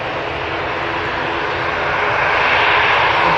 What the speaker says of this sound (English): Turkish Airlines 330 special going out as well.